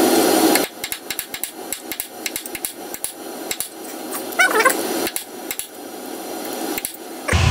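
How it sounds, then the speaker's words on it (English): Metal hammer blows driving down a nut to lock it during an alternator replacement on a Toyota Corolla diesel D4D engine, a run of sharp irregular strikes, close and fairly loud, with a brief metallic clink midway. "I'm just going to bash down this so it sort of it becomes like a locking nut"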